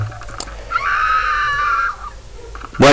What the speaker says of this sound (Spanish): ese grito que escuchamos es la hija del alcalde